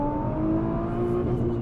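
Modified Nissan GTR tuned for pops and bangs, engine revving up toward the red line in second gear, a rising, strained whine heard up close inside the car.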